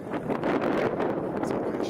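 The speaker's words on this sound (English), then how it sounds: "As you can see, it's still windy." Steady wind in the mountains of northern British Columbia roars and buffets against the microphone throughout, a continuous rushing noise with gusty swells and no pauses.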